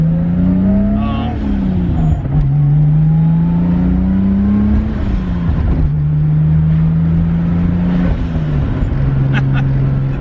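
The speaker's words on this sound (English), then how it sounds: "the sound, the blow-off valve, the turbo, everything about this car" An RB-swapped Datsun 280Z with a turbo and blow-off valve, heard up close and loud as the engine revs up and falls back several times, with a voice faintly underneath.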